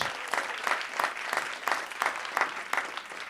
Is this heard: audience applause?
yes